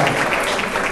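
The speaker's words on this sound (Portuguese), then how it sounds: "Uma salva de palmas para o flamenguista." A lecture audience at a higher-education talk applauds, giving a dense, steady wash of clapping that fills the whole brief moment.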